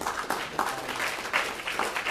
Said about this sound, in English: Let's give another round of applause again for Ryan taking the time to come out.